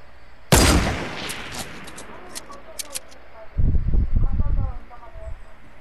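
Sniper gunfire in a video game: a single sharp, loud crack followed by a ringing tail, then scattered clicks, with a burst of rapid shots a few seconds later; a player talks between the shots.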